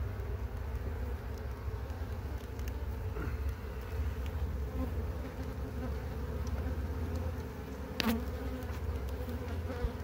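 A dense, continuous drone of honeybees buzzing close by, steady and full throughout, with an occasional brief knock.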